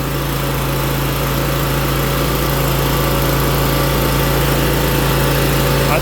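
Scag Turf Tiger zero-turn mower engine running steadily at maximum RPM, a loud continuous close drone with a constant pitch and no letup.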